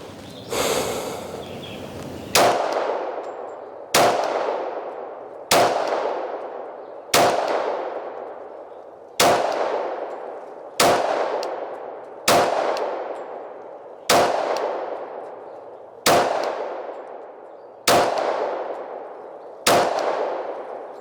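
A Sig P226 pistol fires a final magazine as about a dozen sharp, close shots. The shots come at a slow, even pace of roughly one every one and a half seconds, and each crack rings out with a long echoing tail.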